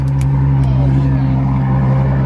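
A Ferrari 812 V12 engine runs with a loud, steady low drone and a smooth harmonic growl, close up and continuous throughout the short stretch.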